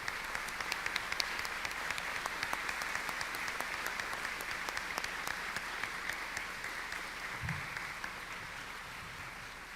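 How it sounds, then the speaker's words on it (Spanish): Sustained applause from a large crowd at the opening of a theology congress, steady and dense with scattered sharper claps, continuing without pause throughout. "vamos a prolongar un poco nuestro aplauso"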